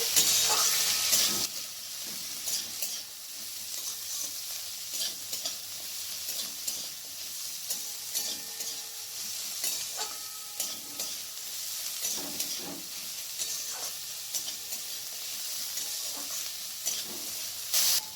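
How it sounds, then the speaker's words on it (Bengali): Sliced onions and green chillies fry on high flame in a pan for a paneer dish, giving a steady, loud sizzling hiss throughout with occasional stirring scrapes and crackles. "এরপর হাই ফ্লেমে রেখে ভালো করে ভেজে নেব যতক্ষণ না পেঁয়াজের কালারটা চেঞ্জ না হয়ে আসছে"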